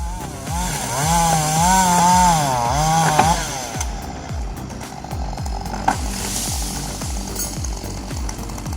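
A chainsaw cuts a tree during logging, its engine first revving high and wavering, then settling into a rough, pulsing chug as the chain bites through wood, loud and close throughout, without speech.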